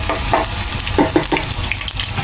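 Ginger frying in oil for pork binagoongan, a steady close sizzle broken by a few scraping stirs of a utensil against the pan.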